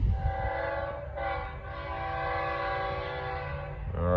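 A Norfolk Southern freight train passes northbound with a sustained, loud multi-tone horn blast, steady rumbling rail noise beneath, and a brief break in the horn partway through.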